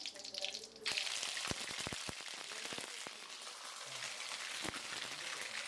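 Curry leaves and ginger paste frying in hot oil for mutton biryani, a burst of loud crackling spatter at first settling into a continuous hiss with sharp pops and utensil taps.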